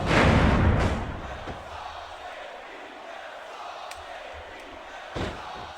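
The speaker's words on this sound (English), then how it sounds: "I love hearing the crowd come alive" A loud crowd roar bursts at the start and fades into a steady, murmuring arena crowd in the video game Smackdown vs Raw 2006, with a couple of sharp thuds later on.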